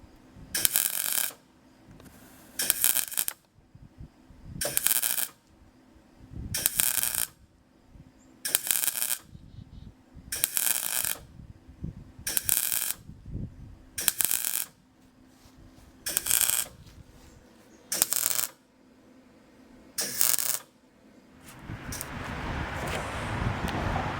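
A Clarke welder lays down welds on a gas tank, sounding in regular crackling bursts of about a second each with short pauses between, fairly close and loud over a steady background hum.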